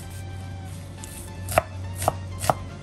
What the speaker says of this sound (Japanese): 玉ねぎはみじん切りします